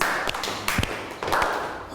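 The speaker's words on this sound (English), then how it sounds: "Let's do 3 big claps" A group of children in a math classroom clap their hands, giving a few sharp, close claps and taps in quick succession.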